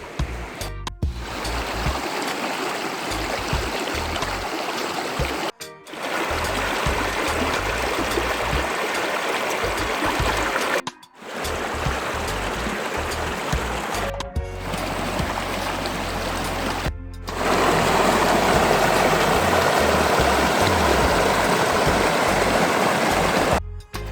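A river flows steadily at the riverside, a continuous close rush and gurgle of water heard in several segments with brief gaps, growing slightly louder and fuller toward the end.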